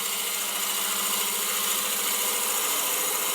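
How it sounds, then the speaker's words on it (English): A wood lathe spins steadily while a handle is being turned, giving a continuous mechanical whir and hum with a faint high hiss, close and unbroken throughout. "I'm going to switch the lathe off."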